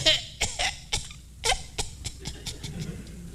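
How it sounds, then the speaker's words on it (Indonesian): A run of harsh, repeated coughs from one person in a church sermon setting, loud and close, coming in quick irregular bursts that fade into lighter breathy coughs. "sampai kita malu batuk begitu"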